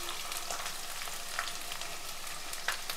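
Sliced onions and green chillies frying in a pan, giving a soft, continuous sizzle with a couple of faint stirring clicks.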